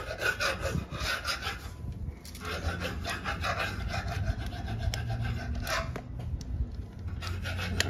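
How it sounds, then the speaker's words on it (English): A scraper scraping continuously in the background, a rough, rasping, rhythmic rubbing that goes on steadily at moderate distance. "If you're wondering what that background noise is, the melodies of a scraper."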